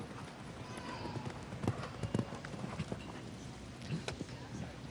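Horse's hooves clip-clop over the footing at an international show jumping event, a quick irregular run of strikes under crowd noise and commentary.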